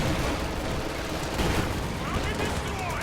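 Dense, continuous rumbling barrage of explosions from a Stuka dive-bomber strike in Company of Heroes 2, loud and sustained with overlapping booms and gunfire throughout.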